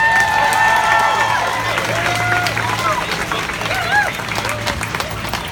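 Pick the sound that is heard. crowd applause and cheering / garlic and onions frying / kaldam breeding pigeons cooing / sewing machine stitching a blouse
crowd applause and cheering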